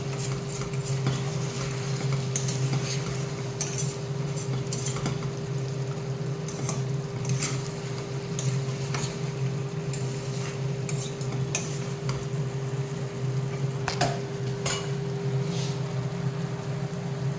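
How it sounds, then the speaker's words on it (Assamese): Local chicken is stirred and fried in a pan over a medium flame, with repeated scraping strokes of the spoon against the pan over a soft sizzle and a low steady hum. "এয়া মই ধুনীয়াকৈ লৰাই ভাজি আছোঁ মিডিয়াম ফ্লেমত।"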